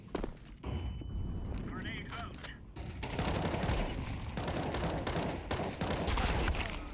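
Rapid bursts of automatic gunfire crackle through a Counter-Strike match, dense and loud volleys running almost continuously, with a brief quieter gap early on.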